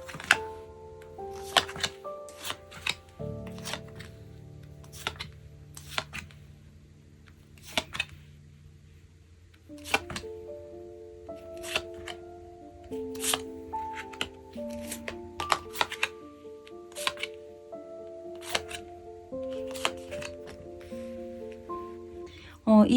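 Tarot cards are shuffled and turned over on a reading table, with scattered soft flicks, taps and slides under quiet talking.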